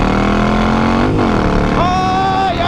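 A Harley-Davidson XL1200N engine rumbles loud and close, then rises in pitch as the throttle is blipped, with a short surge of revs near the end over the steady idle.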